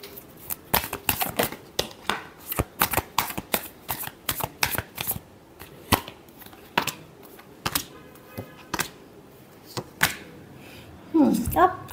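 Tarot cards are shuffled close up in a long run of crisp, rapid riffling bursts that come in uneven clusters, and a voice speaks briefly near the end.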